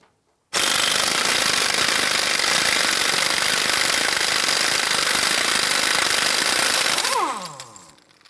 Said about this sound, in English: Using our 32mm socket, we want to loosen and remove our axle nut.